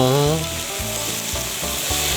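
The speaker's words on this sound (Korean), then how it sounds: "매일 기름 튀는 뜨거운 불판 앞에서 쉬운 일이 아닐 텐데요" Pork belly sizzles on a hot restaurant griddle, oil spattering in a loud, dense crackle with repeated scraping and stirring strokes close by, and no voices.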